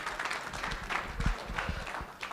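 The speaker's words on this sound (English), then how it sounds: "Give yourselves a round of applause." Members of a recruiting team at a business meeting give themselves a round of applause, a continuous, moderately loud patter of many hands clapping in a room, with little or no speech.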